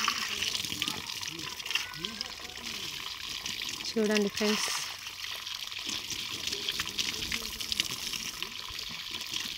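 Water splashes and trickles steadily as it is poured over a concrete column for curing at a building site, running continuously beneath someone talking.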